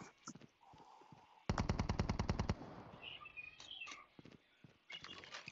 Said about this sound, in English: it's a nice little submachine gun